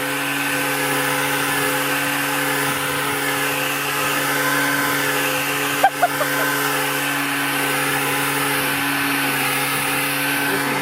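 A lawn mower cutting grass in a home yard drones steadily with a constant motor hum, loud and close, with a brief knock partway through and some voice in the background.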